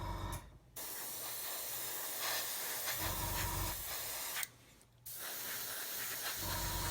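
Grey paint sprayed onto a 1/35 Lanchester WW1 armoured car model, an airbrush-style hiss in two long continuous bursts separated by short pauses, close and steady.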